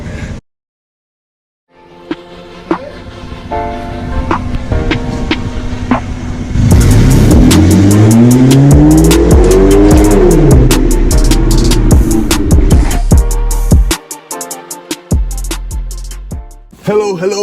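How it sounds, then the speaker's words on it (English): A BMW 120i E88 engine starts, then pulls away and accelerates hard through rising gears, loud and close from inside the cabin, before dropping back and cutting to quieter moments. "what is it like to drive the BMW 120i E88"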